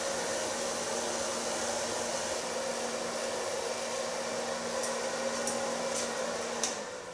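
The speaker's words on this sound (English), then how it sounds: "So far blow drying" Hair dryer blow drying hair, a loud continuous whooshing motor roar held steady throughout, with a few faint clicks near the end and no talking.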